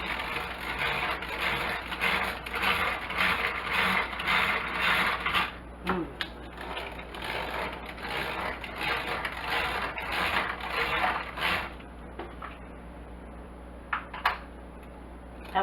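An old-school hand-crank mixer beats pound cake batter, its gears giving a fast, steady mechanical whirring and ratcheting up close before slowing and stopping near the end.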